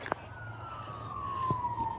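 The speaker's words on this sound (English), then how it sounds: "You can hear sirens." Distant emergency vehicle sirens near the Butte County Fairgrounds in Gridley during the Camp Fire, a faint single wail slowly falling in pitch over low outdoor rumble and a couple of soft knocks.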